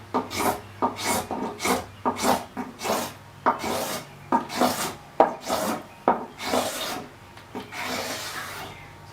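Skew chisel slicing across the wooden seat of a chair, a series of about a dozen rhythmic scraping, rasping strokes, close and fairly loud, with no talking.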